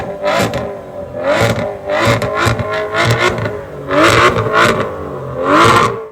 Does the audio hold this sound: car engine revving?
yes